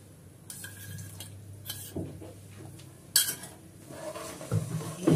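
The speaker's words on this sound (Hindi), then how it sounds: "अभी जब तक चीनी गलेगी तब तक हम इसे थोड़ी चलाएंगे, चाशनी बनाएंगे।" A spoon stirring sugar syrup in a pan for chana dal halwa, soft scrapes and light metallic clinks at an irregular pace, close and quiet, with no talking.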